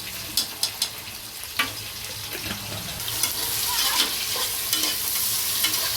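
Ginger garlic paste frying for chicken biryani, a soft steady sizzle with sharp spoon scrapes and stirring clatter against the pan, plus some running-water sounds in the kitchen.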